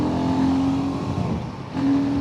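A Royal Enfield Guerrilla motorcycle engine accelerates on a ride, a mid-pitched exhaust drone rising under throttle, dipping briefly as it eases off, then pulling again, with wind rush and no talking.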